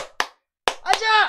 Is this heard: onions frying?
no